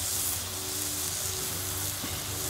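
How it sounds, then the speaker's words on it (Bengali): Potatoes and spices sautéing in a pan for a pointed gourd dish, a steady close sizzle and hiss of frying throughout with faint stirring, no voices. "মশলার সাথে কষিয়ে নিচ্ছে আলুটা দিয়ে"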